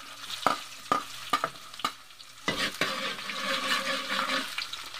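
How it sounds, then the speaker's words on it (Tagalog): Garlic hits hot oil in a wok and sizzles steadily while a utensil knocks and stirs, a few sharp clanks at first and then a rising continuous fry. "Mantika sa kwali, gigisa na tayo ng bawang."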